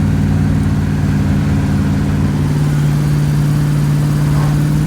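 A car engine cruises on Highway 75 at close to 70 mph, heard from inside a freshly rebuilt car. A loud, steady drone holds throughout, and its pitch shifts slightly partway through.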